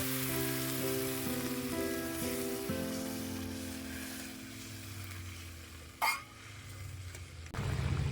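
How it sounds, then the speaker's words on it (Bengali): A pan of snakehead fish curry simmers with a steady bubbling sizzle under a low background hum, and a brief clatter cuts in near the end. "দেখুন ঝোলটা তো ফুটছে"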